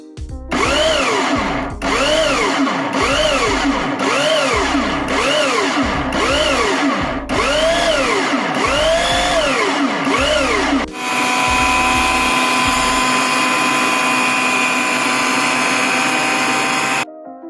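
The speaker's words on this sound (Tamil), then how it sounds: "இப்போ வந்து மிக்சியில் போட்டுக்கலாம். இப்போ வந்து நல்லா அரைக்கணும்." A mixer grinder blends cooked beef for kola urundai in repeated short bursts, each whine rising and falling as the motor spins up and stops, then ends with one longer continuous grinding run, loud and close.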